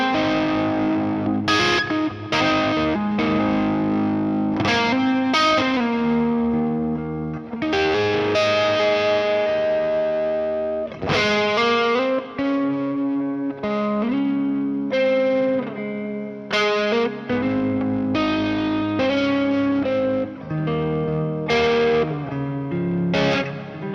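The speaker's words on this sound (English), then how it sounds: "Now let's hear the neck pickup for another iconic riff." Gibson Les Paul electric guitar played through the neck pickup with distortion and effects, a loud, continuous iconic rock riff of sustained chords and melodic lines with brief pauses, no talking.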